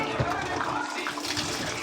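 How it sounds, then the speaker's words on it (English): Water runs steadily from a tap with light splashing as hands are rinsed beneath it, close up, with faint background voices. "Wash my hands."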